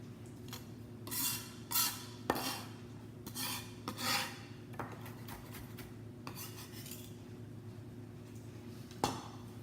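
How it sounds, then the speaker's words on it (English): A knife cuts tomato on a board for shrimp ceviche, producing scattered rasping strokes and soft clacks over a steady kitchen hum, with no talking. "now let's start to chop the tomato"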